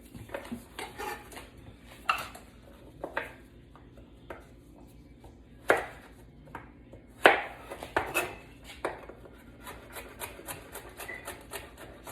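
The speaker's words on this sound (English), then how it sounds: "Now I'm cutting up these carrots into pretty small dices" A knife cuts carrots into small dice for pollo guisado, irregular taps and knocks on a board mixed with clinks of dishes and utensils, moderately close, no talking.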